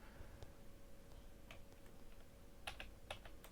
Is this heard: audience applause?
no